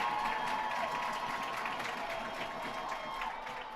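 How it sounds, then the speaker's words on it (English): A high school football crowd on its feet cheering before a big fourth down, a steady distant roar of many voices in the stands with music faintly underneath. "Crowd's into it. They're on their feet."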